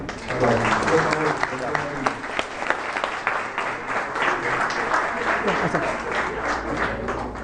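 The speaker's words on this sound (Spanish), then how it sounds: "quisiera que todos le brindemos un fuerte aplauso" An audience at a university law lecture applauds to welcome the visiting lecturer, a continuous spread of clapping with sharp individual claps standing out, with voices speaking over the applause throughout.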